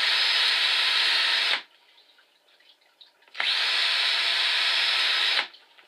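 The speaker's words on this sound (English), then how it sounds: "I got a Maketech. It's a knockoff drill." A cheap knockoff power drill runs at full speed in two long, steady bursts separated by a short quiet pause, a loud, close, high-pitched whine in a home workshop while a mask is being built.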